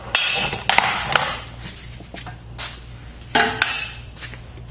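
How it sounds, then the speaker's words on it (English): A clamp is unfastened and lifted off a cyanotype print: several sharp metallic clicks and clanks with scraping handling noises between them, close by and fairly quiet, with no talking. "Take our clamp off"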